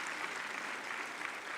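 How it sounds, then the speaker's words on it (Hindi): Audience applauding at a Chhattisgarh state ceremony honouring STF and Hawk Force personnel and NCC cadets, a steady, even wash of clapping from a large crowd heard alone, at moderate distance. "इनके लिए जोर से तालियां बजाइए"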